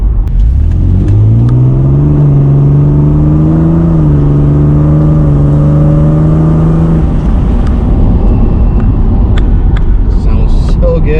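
A Mercedes W203 AMG accelerates hard on a highway, its loud engine note climbing steadily in pitch with a whining edge, then easing off into a steady rumble of road and tyre noise heard from inside the car.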